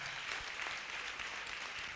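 Church congregation applauding in acclaim of Jesus during a prayer service, a short burst of steady, fairly faint clapping from many hands with no voices.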